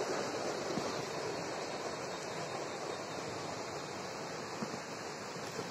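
Fast river water rushes steadily and loudly at a North Bengal viewpoint near a bridge, a dense unbroken roar with no voices.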